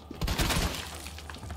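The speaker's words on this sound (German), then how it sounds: "Sag mal, warum schieße ich gerade daneben?" Gunshots in Resident Evil 2, a short cluster of sharp shots with a crashing impact, fairly loud and then trailing off into a softer background.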